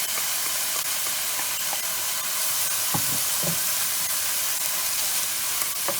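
Tomato and chopped herbs cook in a pan, giving a constant soft sizzle and steam hiss with a few faint stirring knocks, close by and with no talking.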